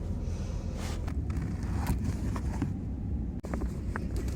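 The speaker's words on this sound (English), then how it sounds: "We'll get some heat going and we'll get the car into driving mode." A small car idles steadily with its heater blowing, a constant low rumble and airy hiss inside the cabin, with a few faint clicks and a brief thump near the end.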